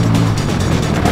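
A car roars at speed toward a row of 50 stop signs, its engine loud and close in one short, rushing burst.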